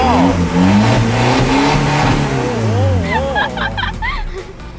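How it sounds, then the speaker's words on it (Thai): A modified pickup truck engine revs repeatedly, its pitch rising and falling in loud sweeps, with voices talking over the first part. "มาพร้อมกับคัดทองแดงค่ะ เดี๋ยวสตาร์ทในฟังก่อน ฟังเสียงฟังเสียง"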